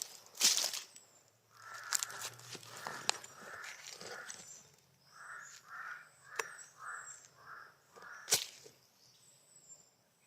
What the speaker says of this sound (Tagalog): Yung mga uwak yung nagtuturo ng location natin.